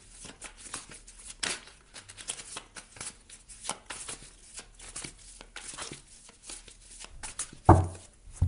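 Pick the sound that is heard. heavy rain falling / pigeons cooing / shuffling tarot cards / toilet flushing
shuffling tarot cards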